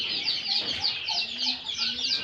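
Sonali chicken chicks held in the hand cheep in quick, repeated high peeps, close and continuous over a brief stretch, with no clear talking.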